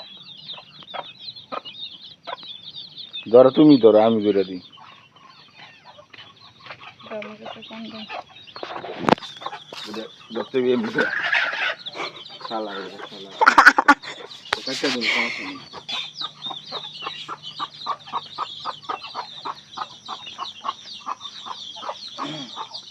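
Chickens cluck in bursts during a village chicken-catching competition, a loud flurry of squawks early on, with people talking and shouting throughout.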